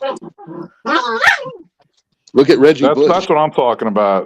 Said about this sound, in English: Whoever just barked.